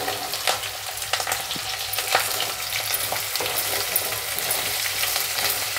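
Thin-sliced raw papaya with turmeric fries and is stirred in a pan, giving a continuous crackling sizzle broken by sharp spatula scrapes and clicks, close and fairly loud; no speech.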